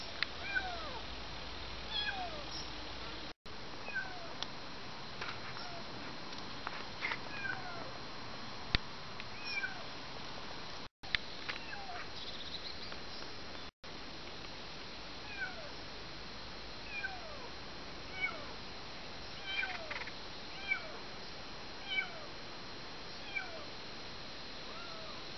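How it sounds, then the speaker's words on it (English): A cat meows repeatedly while trailing people through the countryside near a fishing spot, short plaintive calls recurring every second or two over a steady outdoor hiss. "The cat is just determined to follow us."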